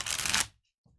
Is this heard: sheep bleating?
no